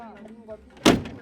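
An old, broken car door on a farm truck in rural Kenya shuts with a single sharp slam, heard right after a voice speaks.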